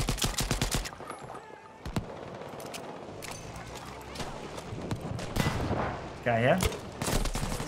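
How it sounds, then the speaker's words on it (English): Rapid gunfire and explosive grenade-launcher blasts from the Battlefield V shooter, a dense run of sharp cracks and bursts with a short pause midway, a brief voice speaking over the fighting. "How did that guy not die when I shot a grenade launcher at his face?"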